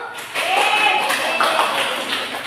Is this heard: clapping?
yes